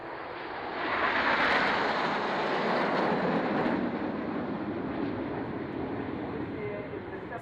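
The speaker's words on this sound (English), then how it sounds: "This is Concorde." The Concorde supersonic airliner roars past overhead in a broad, rushing engine sound that swells within the first second and holds steady, loud and airy, for several seconds.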